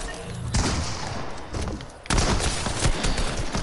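Pistol gunfire in a video game: two loud, sharp bursts of shots about a second and a half apart, each followed by a rough, crackling tail, dense and close.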